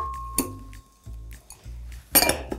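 Eggs and sugar going into a mixing bowl, with close clinks and knocks of dish and utensil against the bowl, a few sharp taps and a louder clatter near the end.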